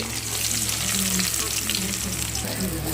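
Seasoning seeds and onions fry in hot oil for an egg curry, giving a dense, continuous close sizzle with a low steady hum beneath.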